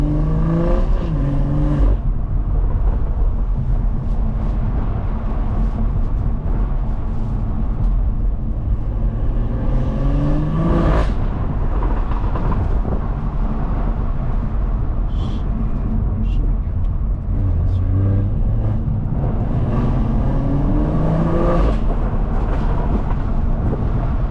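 A Stage 2+ BMW 340i driven on a calm backroad, its engine droning loud and steady with rising and falling revs throughout, under people talking inside the car.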